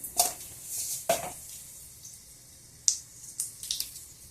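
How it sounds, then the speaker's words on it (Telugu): Mustard seeds and cumin dropped into hot oil for a stuffed brinjal curry, giving a few sharp sizzling crackles and pops with quiet gaps between bursts. "ఆవాలు జీలకర్ర వేసుకున్నాము."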